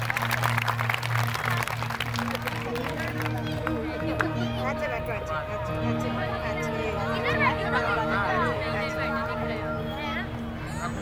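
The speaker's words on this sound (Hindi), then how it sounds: "एक बार जोरदार तालियां होनी चाहिए अपने लिए" Clapping from a crowd at a Navratri bhajan gathering, blended with sustained musical tones, chatter and voices talking, with the claps most distinct early on before settling under the steady music.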